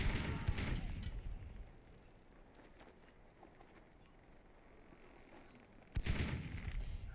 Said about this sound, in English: Yeah, it's firing grape shot.